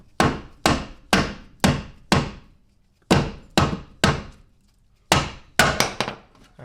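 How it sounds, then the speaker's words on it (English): Hammer blows knocking a control arm out of an Audi B5 S4 suspension, sharp metallic strikes in irregular bursts of two to four hits with short pauses, close and loud, no talking. "we can go ahead and hammer this"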